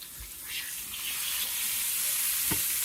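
Slices of green tomato fry in a pan for an old-fashioned fried green tomato recipe, giving a close, continuous sizzle that grows slightly louder. Two soft clunks mark the slices being flipped.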